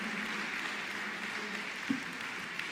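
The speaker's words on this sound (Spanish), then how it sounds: "denle un fuerte aplauso al Señor." Church congregation applauding together during a Spanish-language sermon, a soft, steady wash of clapping held at moderate distance, with one sharper clap near the end.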